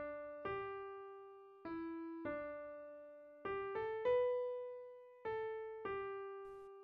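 The soprano line of the psalm tune Martyrdom is played as a slow melody of about nine clear, struck notes, each decaying before the next, quiet and alone.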